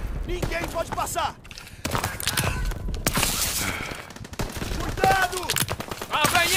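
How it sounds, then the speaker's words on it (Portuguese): Rapid gunfire and machine-gun bursts crackle through a Call of Duty WW2 D-Day battle, with shots and mechanical clanks coming close and at a distance. Soldiers' voices shout over the shooting. "Abrem fogo! Alguém na metralhadora!"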